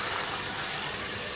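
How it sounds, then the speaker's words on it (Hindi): Water gushes steadily for a moment as it is poured into a pot of cooking chicken, a close, continuous splash with no talk. "1/4 प्याली पानी की डाल देंगे।"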